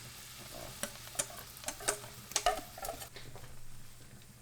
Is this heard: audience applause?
no